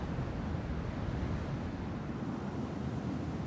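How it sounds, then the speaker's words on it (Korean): Strong tidal current swirling through the narrow Uldolmok strait off Jindo, South Korea, a steady broadband roar of rushing water mixed with wind buffeting, loud and continuous with no voices. "여전히 힘찬 물소리와 회오리 치는 바다는 그 옛날 역사의 한 장면으로 우리를 옮겨놓습니다."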